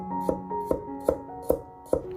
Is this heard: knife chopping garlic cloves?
yes